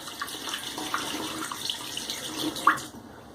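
Water runs steadily from a bathroom tap into a sink, a continuous close splashing hiss that cuts off near the end.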